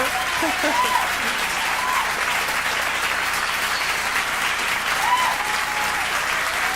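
A studio audience at a Joni Mitchell MuchMusic Intimate & Interactive taping keeps up long, sustained applause, steady and close, with faint whoops rising above it.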